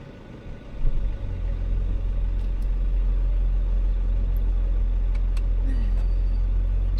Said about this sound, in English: So many cars here right now.